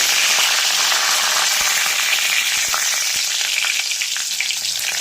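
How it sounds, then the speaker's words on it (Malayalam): Mustard seeds and curry leaves hit hot oil and fry in a loud, continuous close sizzle, with scattered sharp pops and crackles throughout and no talking. "അത് ചൂടായിട്ടുണ്ട്. ഇച്ചിരി കടുകിട്ട് കൊടുക്കാം. അതോടൊപ്പം കുറച്ച് കറിവേപ്പില."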